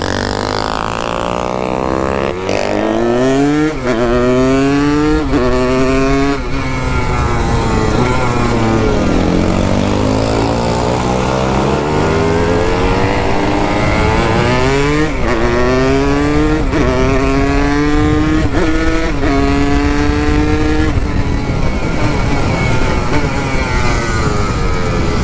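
A Yamaha RD 135 two-stroke motorcycle accelerates hard on a race track, its loud buzzing engine climbing through rising pitch sweeps with brief dips between gear shifts, close and continuous.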